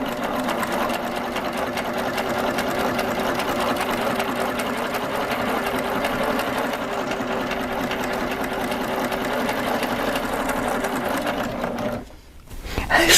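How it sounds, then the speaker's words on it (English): A sewing machine stitches over cords to form a decorative cord, its loud continuous whirring hum running steadily up close, then briefly cutting out near the end. "I'm going to see if I can make a really pretty cord by stitching over cords."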